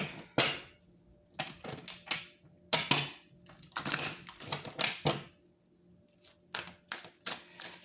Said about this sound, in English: I do like to give them a good shuffle one at a time before we start.